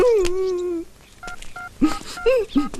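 A mobile phone keypad sounds a short series of separate dialing tones at close range. A wailing voice comes first, then some scattered vocal sounds between the tones.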